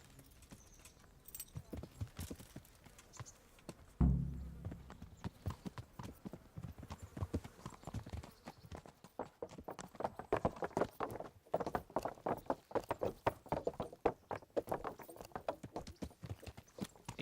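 Horse hooves in the video game Kingdom Come: Deliverance, a steady walking clip-clop of a new horse, close and fairly faint, with brief quiet voices now and then.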